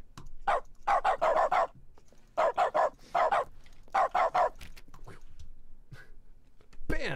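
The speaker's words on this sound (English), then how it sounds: "I forgot the bark" Dog bark sound effect dropped into a Stanley Parable game stream: several clusters of loud, sharp barks in quick succession, spread across the clip with short gaps between them.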